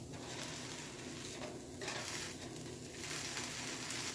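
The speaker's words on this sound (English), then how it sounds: "while I fry them, but it can take a good 15 minutes to fry" Vegan, gluten-free potato pancakes fry in a pan with a steady, close sizzle and soft crackling that runs unbroken from start to finish, with no voices.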